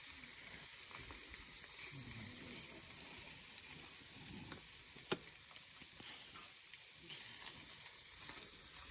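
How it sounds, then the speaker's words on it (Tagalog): Spam and eggs frying in a pan at a campsite, a steady close hiss and crackle of sizzling grease that runs unbroken, with occasional small pops and faint stirring. "Puro spam, tsaka itlog. Lahat na ng tira, lutuin na."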